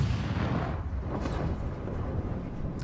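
A tank's main gun fires in War Thunder, a deep, heavy boom with a long rumbling tail that fills the whole stretch, loud and close with no voices.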